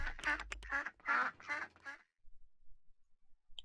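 A cartoonish duck in Rollercoaster Tycoon 3 gives a run of five quick, clear quacks, then the sound drops to near silence.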